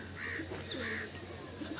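Pigeons cooing close by, two or three soft rounded coos in quick succession over a low steady hum, with no voices.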